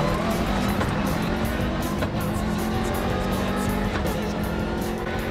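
Rally car at the Rallye Mont Blanc driving with its brakes dragging, a steady, dense engine and road roar running unbroken throughout, loud and close as from inside the cabin.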